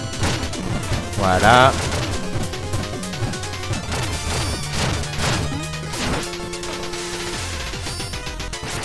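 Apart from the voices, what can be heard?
bombs exploding in the video game Shovel Knight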